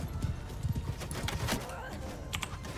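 A large group of horses gallops in a video game, their hooves producing a dense, uneven clatter of clip-clop beats with a few brief sharp accents, and the sound holds at moderate loudness.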